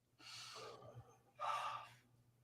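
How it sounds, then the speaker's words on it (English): Two breaths, a long inhale followed after a pause by a stronger exhale, close and fairly quiet, taken as a relaxation exercise, in through the nose and out through the mouth. "Breathe in through your nose and out through your mouth."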